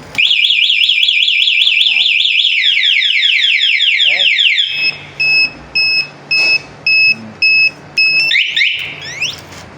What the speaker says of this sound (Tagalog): pag ginalaw mo yan, automatic mag-a-alarm na yan, pati itong remote mo.